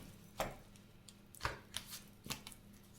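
A deck of tarot cards being cut, giving a few short, crisp riffling snaps spread across a quiet room, close and soft.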